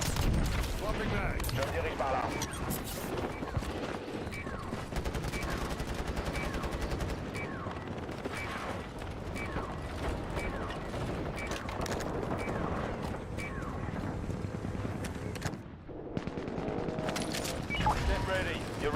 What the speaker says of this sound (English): A little sniper shooting up in there.